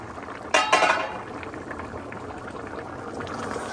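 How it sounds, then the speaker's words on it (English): Cassava-leaves soup with country beans simmering in a covered pot, a soft steady bubbling hiss after a brief clink of the lid near the start, close and moderate in level. "I'm closing it now to boil for some minutes again."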